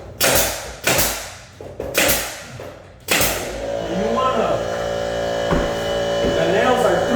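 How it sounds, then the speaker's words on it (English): A nail gun fires 3-inch nails into crown molding in an apartment renovation, four sharp close thumps about a second apart, followed by a lower steady hum and faint clatter. "So I'll nail it there."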